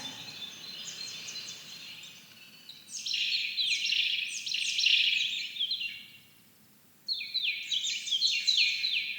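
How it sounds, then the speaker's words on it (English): Several birds chirp and sing in bright, rapid trilling bursts, with a brief lull before a final flurry of song against a quiet background. "the sounds of the chirping and singing birds"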